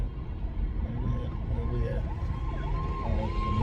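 Ambulance siren wailing in rising and falling sweeps at moderate distance, continuous through steady street noise and traffic rumble.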